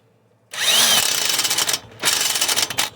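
An electric impact tool runs lug nuts snug on the front wheel of a 2018 Nissan Versa, two loud close whirring bursts of rattling hammering separated by a short gap, with no talking.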